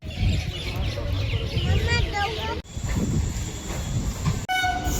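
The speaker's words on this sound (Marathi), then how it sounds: "आपली ट्रेन आली बघा तिकडून" A passenger train pulls into a station platform before a general-coach trip to Akola, rumbling steadily with a horn sounding. Voices and crowd chatter from people nearby can be heard over the train.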